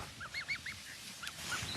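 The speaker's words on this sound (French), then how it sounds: "Des oies qui dans 2 ans deviendront grandes." Young geese on a lake give a quick run of short honks and squeaky calls, fairly close and soft, with no talking.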